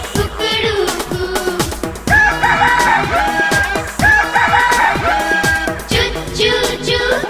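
A rooster crows cock-a-doodle-doo twice in a children's nursery rhyme, each loud, rising call set over a bouncy musical backing.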